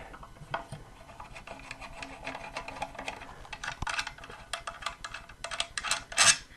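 A Torx bit working a screw out of a Stihl TS420 cut-off saw during a blade conversion, heard as close, continuous scraping and rasping with small metallic clicks and a few sharper knocks near the end, with no talk.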